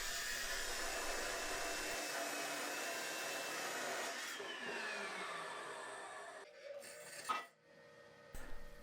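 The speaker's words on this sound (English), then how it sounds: "The first step is to cut everything out on the metal chop saw." A metal chop saw cuts 11 gauge 2-inch steel tubing and angle, a sustained loud abrasive whine that slowly fades and drops in pitch as the blade spins down, followed by a few clanks.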